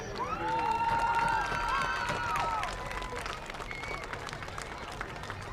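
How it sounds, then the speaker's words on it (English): A crowd at a junior varsity high school football homecoming game breaks into applause and cheering, a steady wash of clapping under a loud stadium PA voice that fades after a few seconds. "can we get one more heartfelt applause for the Reyes family?"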